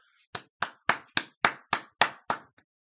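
One person clapping hands eight times in a steady rhythm, sharp close claps with short gaps and no talk over them.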